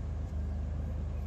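Toyota 4Runner engine idling low and steady as the SUV backs out of a garage after sitting over a year, a continuous close rumble with no voices.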